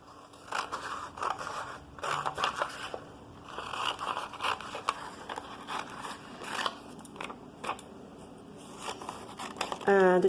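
Scissors cut a fish picture out of a paper illustration with repeated close crisp snips and rustling paper, steady and continuous, and a voice talks quietly under it near the end.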